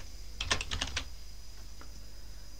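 Quick burst of keystrokes on a computer keyboard while a username is entered during a Nobara Linux installation, about half a dozen close, crisp taps in a row followed by a couple of faint later presses, with no talking.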